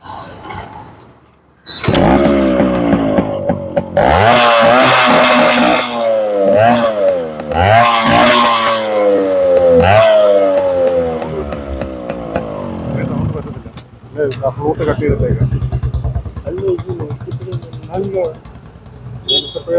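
A loud motorcycle with a modified exhaust roars and revs repeatedly, harsh and throaty, rising and falling in pitch, then settling into a rough idle.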